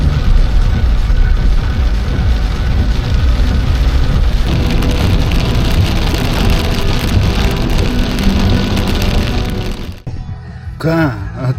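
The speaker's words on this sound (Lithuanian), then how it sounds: "Lietus lyja" Steady rain pours down outdoors on a wet day around Druskininkai, Lithuania, a dense continuous patter that fills most of the stretch before easing off as a voice speaks briefly near the end.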